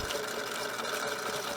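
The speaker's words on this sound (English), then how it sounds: "just straight stitching." Sewing machine running a straight quarter-inch seam on quilt strip blocks: a brief, steady, even whir throughout, quiet and close, with no talking.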